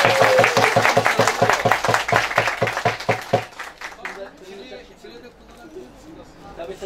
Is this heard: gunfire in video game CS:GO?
no